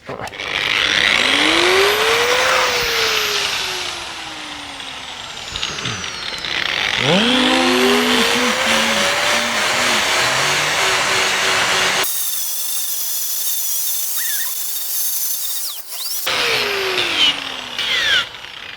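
Loud, continuous angle grinder grinding lumps off metal before tinning, with a high whine that rises and falls as the tool bites and eases, running through most of the stretch with brief pauses.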